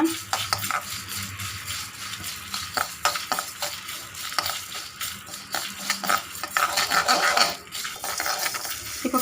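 Coriander seeds and dried red chilies dry roasting in a pan, with steady rattling and scraping as a spoon stirs them against the metal, close and continuous, broken by sharper clinks throughout.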